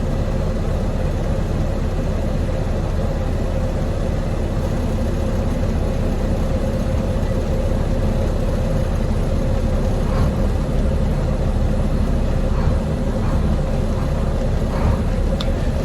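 Truck engine idling while parked on a cold day, a steady low rumble that runs unbroken and fills the whole stretch, with no talk over it.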